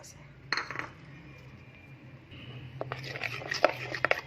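A spoon stirs spices and ginger-garlic paste into yogurt in a bowl for a chicken marinade, giving a few sharp clinks and scrapes near the start, then a denser run of clinking and stirring over a low background hum.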